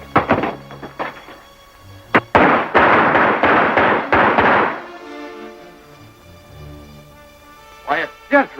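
A shootout in a 1934 western film: a sharp early shot, then a rapid, loud volley of overlapping gunfire, with voices before and after.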